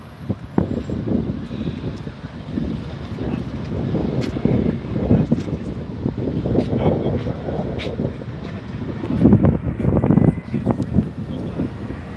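Strong wind blows steadily outdoors near a structure fire and a line fire, a continuous loud rumbling roar buffeting the microphone, swelling in gusts over twelve seconds with no talking.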